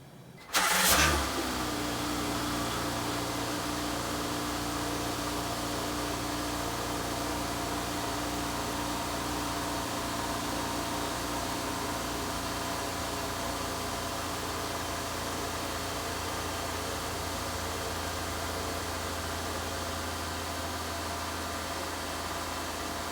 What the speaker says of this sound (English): Now we're going to start it up with the cap off and run the wheels from lock to lock